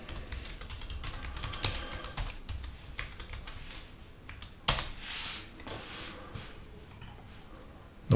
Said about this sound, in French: dans la barre de recherche, on va taper Microsoft PowerToy